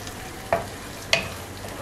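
Eggs mixed with green onion are scrambled in a frying pan; two distinct utensil scrapes cut through a soft, low sizzle.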